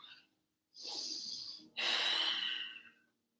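Deep yoga breaths during a morning flow: a short faint breath, then a long airy inhale and a longer, fuller exhale, close and clear in a quiet room.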